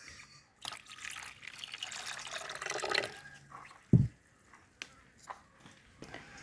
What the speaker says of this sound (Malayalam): അടുത്ത് 1/2 ലിറ്റർ വെള്ളമാണ് 1 ലിറ്റർ മുന്തിരിയിൽ ചേർക്കുന്നത്.